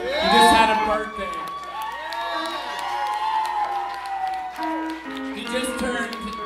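A club audience at the Blue Note in Oklahoma City cheers and whoops for a blues musician, a loud, sustained crowd roar with shouts rising and falling throughout.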